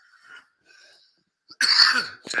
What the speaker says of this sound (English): I've got to train my cough.